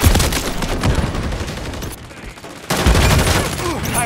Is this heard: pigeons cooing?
no